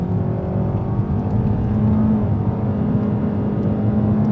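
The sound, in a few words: 2025 Kia K4 LXS engine accelerating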